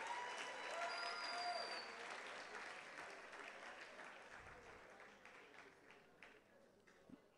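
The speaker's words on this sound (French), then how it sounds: "je vous demande d'applaudir tout le comité d'organisation de cette première édition de la Journée de l'entreprise" Audience applause for the organising committee of the first Journée de l'entreprise, a dense wash of clapping that is loudest at the start and slowly fades over several seconds, with faint voices underneath.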